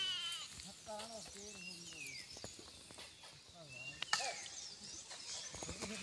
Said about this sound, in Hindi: कितनी इनकी भेड़ बकरियाँ हैं